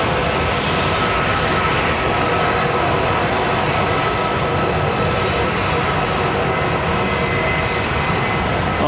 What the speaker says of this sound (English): Listen to the engines on that 330, man.